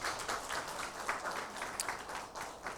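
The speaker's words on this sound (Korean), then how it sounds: "따뜻한 마음으로 박수해 주시기 바랍니다" A church congregation applauds warmly, a dense, even wash of clapping that stays steady at moderate volume throughout.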